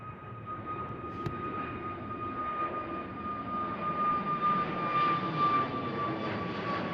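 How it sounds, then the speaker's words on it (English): A Transavia Airbus A321neo jet roars at a distance under heat haze, its broad engine rumble slowly swelling in loudness while a steady whining tone rides on top. "It is a Transavia A321 Neo going to Valencia."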